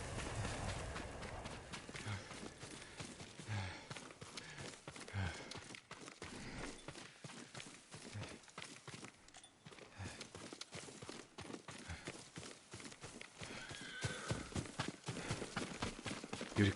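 A horse's hooves clip-clop at a walking pace in Ghost of Tsushima, with faint background ambience, the steps fairly quiet and steady throughout.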